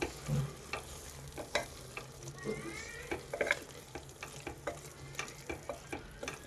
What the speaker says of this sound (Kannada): ಮಸಾಲ ಜೊತೆ ಸ್ವಲ್ಪ ಚೆನ್ನಾಗಿ ಫ್ರೈ ಆಗಬೇಕು ಮಶ್ರೂಮು